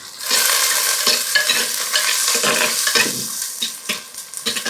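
Crushed garlic sautés with softened onions in a home kitchen pan, a loud close sizzle broken by repeated scraping strokes of a stirring spoon.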